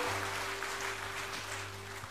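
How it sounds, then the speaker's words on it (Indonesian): Church congregation applauding during a sermon, a diffuse wash of many hands clapping at moderate loudness that holds steady for about two seconds, mixed with a faint low hum. "Tepuk tangan yang paling meriah buat Allah kita."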